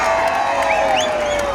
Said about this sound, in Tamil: ஆரவாரம்.